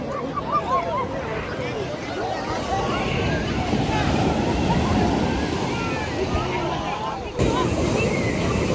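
Sea waves wash in steadily on Calangute beach in Goa, a broad continuous surf roar with wind buffeting the microphone and a crowd murmuring under it.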